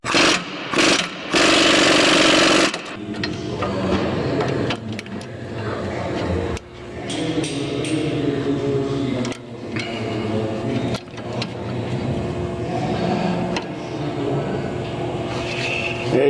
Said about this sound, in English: try to loosen this up with the air impact first